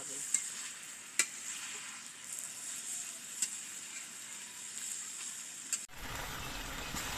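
Vegetables sizzle quietly in a pan for a mixed vegetable dish, with a few sharp clicks of a spoon stirring against the metal, and the sound shifts to a rougher hiss near the end; no voices.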